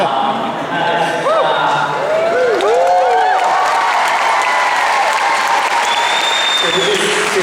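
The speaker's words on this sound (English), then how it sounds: "Can we just take a moment to applaud that he is back?" Loud, continuous applause and cheering from a crowd at a San Francisco film premiere, dense clapping with whoops and shouts rising over it, close and sustained.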